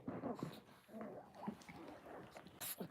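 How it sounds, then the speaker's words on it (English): Pet dogs playing indoors, giving close whimpers, yips and small growly noises in scattered bursts with a quick snort near the end. "If you hear this noise, it's my dogs. They're playing."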